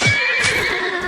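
A horse in the video game Myth of Empires neighs, a close, loud whinny with a bright, shaky pitch filling the short moment alone.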